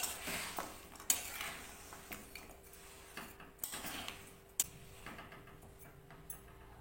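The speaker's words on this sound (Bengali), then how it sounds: "জলের মধ্যে গুড়টা দিয়ে দিলাম। এবারে নেড়েচেড়ে নেব।" A spoon stirs jaggery in warm water in a pan to melt it, making soft, faint scraping and irregular light clinks against the metal. The small taps stand out quietly over a low background.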